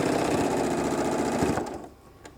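A sewing machine runs steadily while stitching across a shoulder bag at a 3/8 inch seam allowance, a close, continuous mechanical whir that cuts out near the end, leaving brief quiet and one small click.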